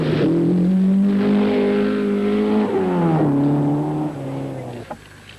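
A Holden Gemini rally car in the 1978 Southern Cross International Rally drives flat out, its engine holding a loud, steady drone that shifts pitch as it changes gear, then fades slightly near the end.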